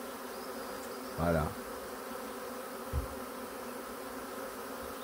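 A swarm of honeybees arriving at a homemade hive near flowering rapeseed, a steady dense buzzing drone throughout with a brief spoken word and a soft thump over it.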